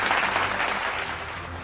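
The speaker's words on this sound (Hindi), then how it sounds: "एक बार जोरदार तालियां हो जाए इन सभी कलाकारों के" A crowd at an Ambedkar Jayanti cultural programme gives loud applause for the performers, a thick, continuous roar of many hands clapping at once, close and sustained with no talking.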